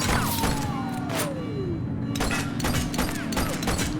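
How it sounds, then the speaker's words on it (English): A shootout in the video game The Precinct, with a string of sharp gunshots cracking at uneven intervals over a steady mechanical drone and a falling whine. "Taking fire! He's shooting!"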